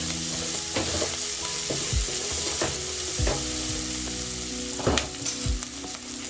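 Onions and garlic sautéing in a pan for butter chicken, a continuous loud crackling sizzle with several sharp spoon knocks and scrapes against the pan bottom at irregular intervals, close up with no talking.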